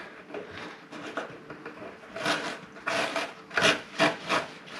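Something is rubbed along the bottom of a snow blower's fuel tank, making rasping, scraping strokes in an uneven rhythm. The strokes grow louder and more forceful toward the end, close-up and with no talk.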